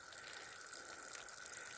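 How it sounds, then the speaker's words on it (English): A small waterfall pours off a mountainside along a hiking trail, a faint, steady rushing wash heard from a short distance with no talk. "We like the little waterfall off the mountain."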